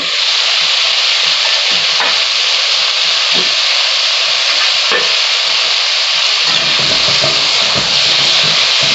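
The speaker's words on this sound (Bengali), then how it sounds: "হলুদ লবণ দিয়ে আমি এটা একটু কষিয়ে নেব" Beans sautéed in a pan with turmeric and salt give a steady, loud sizzle with scraping stir strokes throughout, and the frying deepens slightly near the end.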